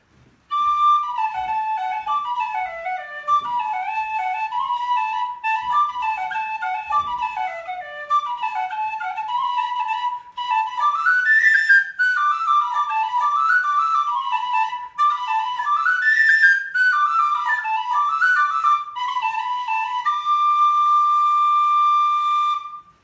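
A tunable Tony Dixon DX004 plastic tin whistle plays a lively melody with a soft tone, its clear high notes running in quick ornamented phrases alone and close up, ending on a long held note.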